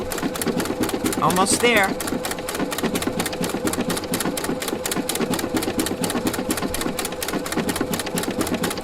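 A Husqvarna Viking sewing machine stitches with a circular attachment, a steady rapid mechanical clatter running throughout, with a brief whistling squeak early on and a voice speaking briefly over it.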